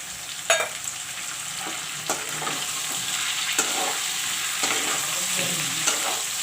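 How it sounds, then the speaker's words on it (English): Chopped tomatoes frying with okra and potato in a pan, a steady close sizzle with repeated sharp spoon scrapes and stirring clatters throughout. "Now I will put in the tomatoes, the chopped up tomatoes which I have kept."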